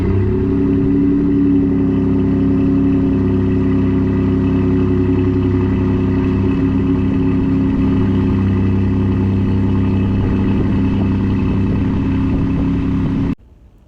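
A Ford F150 with a 2.7L Ecoboost V6 and resonator delete exhaust drones steadily with a deep, loud, even engine note for about thirteen seconds, then cuts off abruptly.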